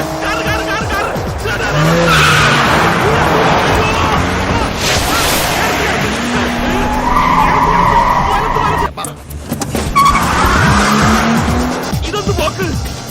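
Car engine roaring and tires squealing in a skidding chase from a Malayalam comedy film scene, loud and continuous with a brief drop near the end, while voices shout over it.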